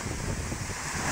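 Typhoon Opong wind roaring steadily and close by near a swollen river, a dense, unbroken rush of gusts buffeting the microphone with no voices.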